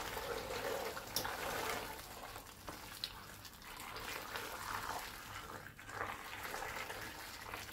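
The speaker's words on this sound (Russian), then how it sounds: "сверху будем ошпаривать кипятком" Boiling water pours steadily over cross-scored tomatoes in a continuous splashing rush, fairly close and unbroken, with small surges in the flow.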